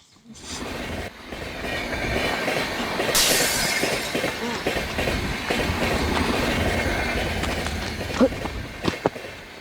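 A train rumbles steadily along the tracks, with rhythmic wheel clatter, a brief metallic screech and a few sharp knocks near the end.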